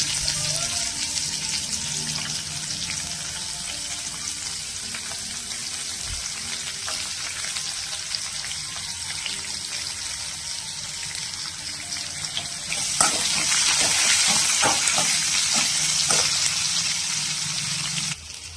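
Sliced onion sautéing in a pan for a sweet semiya dish gives a steady, dense sizzle and hiss that swells noticeably louder in the final few seconds, with no voices present.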